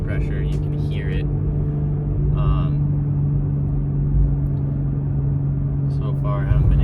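A car fitted with a JB4 tuner drones from the cabin in a steady, low engine rumble with a constant hum. Someone talks over it for much of the time.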